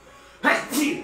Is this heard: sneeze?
yes